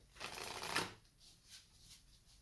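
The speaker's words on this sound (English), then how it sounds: "So please go ahead and give these cards a shuffle." A deck of playing cards being shuffled: a long riffle burst followed by a few softer, shorter riffles, close and clear with no talking.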